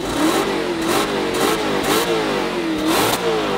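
An Audi RS5's naturally aspirated V8 revs repeatedly, rising and dropping in pitch across several blips, loud and close with a rounded engine tone.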